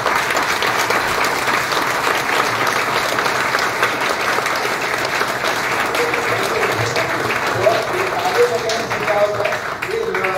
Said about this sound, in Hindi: इसके पहले आपको 5 मिनट ताली बजाना है